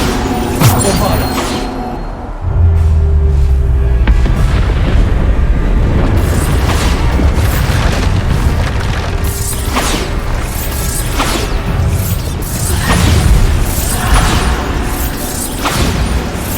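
Repeated Bombarda spell blasts in the Hogwarts Legacy game, deep booming explosions and whooshes layered over dense combat noise, with a voice shouting spell names throughout.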